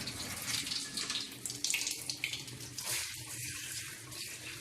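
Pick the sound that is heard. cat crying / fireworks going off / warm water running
warm water running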